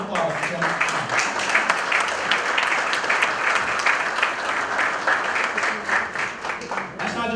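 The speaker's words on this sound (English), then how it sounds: "give a round of applause" Audience at the Men's Health Summit at Whittier Street Health Center in Boston applauds, a full continuous round of clapping with voices and cheers mixed in.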